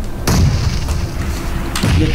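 Grenade blasts in the video game PUBG Mobile, two loud, deep booms about a second and a half apart, each a sharp thud with a short rumbling tail.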